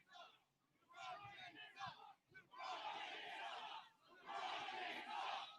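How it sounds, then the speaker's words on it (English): A large crowd at an outdoor presidential campaign rally in Avoca, Pennsylvania roars and chants in loud surging bursts, swelling twice after a brief lull, with shouting voices blended through the cheering. "What a crowd."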